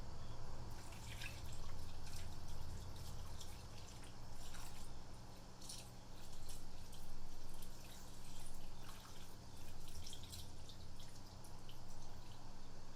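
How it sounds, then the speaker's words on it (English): Liquid mixture pours and drips over chicken being prepared for smoking at a barbecue cook-off, a steady trickle and patter running through the whole stretch with faint outdoor background. "Then we're going to pour that in our chicken."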